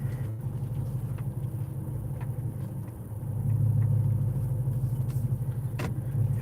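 A car engine idling while it is parked in snowy weather, a low steady rumble that swells slightly midway, close and continuous with no voices.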